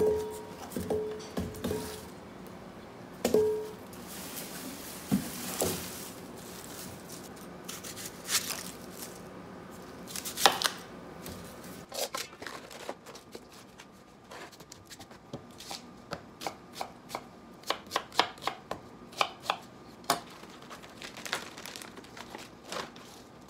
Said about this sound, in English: I'm just gonna cut the ends off